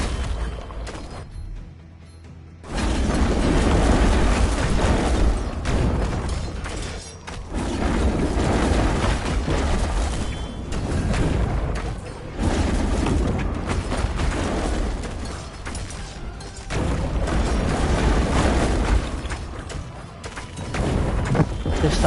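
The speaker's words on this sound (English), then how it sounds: "I do think this does the big explosions the best." Large explosions in the video game Achilles: Survivor, loud booming blasts that rumble and roll in repeated waves over about twenty seconds after a short quiet opening.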